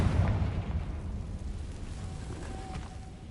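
Bombarda and Confringo spell explosions in Hogwarts Legacy: a low, rumbling blast that swells at the start and then decays into a lingering boom, fairly quiet overall, with no speech.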